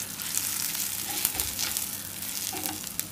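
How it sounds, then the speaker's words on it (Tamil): Onions frying in a hot pan for a Tamil yam tamarind kuzhambu give off a steady, dense sizzle, with a few soft stirring scrapes near the end and no talking. "இப்போ நான் வந்து வதக்கிட்டு இருக்க போகிறேன்"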